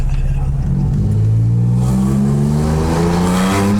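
A turbocharged Infiniti G35 coupe engine revs hard and pulls through rising gears, loud and close, its pitch climbing steadily over a few seconds.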